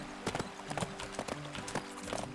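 Horse hooves clip-clop at a brisk walking pace in the video game Adventures with Horses, evenly spaced and close, over a low steady background tone.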